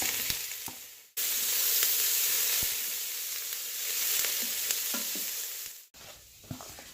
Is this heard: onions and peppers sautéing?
yes